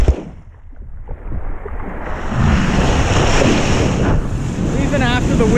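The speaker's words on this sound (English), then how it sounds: "the wind has gotten pretty bad" Strong wind roars against the microphone on a beach, with surf rumbling behind it, loud and steady, rising after a brief lull and buffeting continuously.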